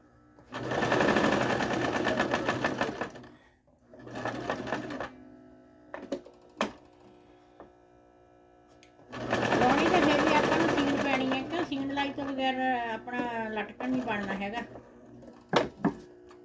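A sewing machine stitches a fabric seam in close, rapid bursts, with a long run at the start, a short one, a few isolated clicks and then another long stretch that slows and whirs toward the end.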